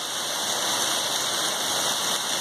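Steady rain falls on a flooded backyard garden, a loud, dense, even hiss that continues unbroken throughout with no voices.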